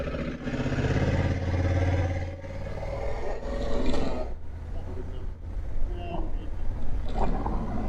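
A Honda Africa Twin motorcycle riding a rural byway green lane, its engine roaring steadily close by with rumbling and wind noise, easing off midway and then picking up again, with no clear talking.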